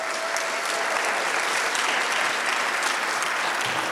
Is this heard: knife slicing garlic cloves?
no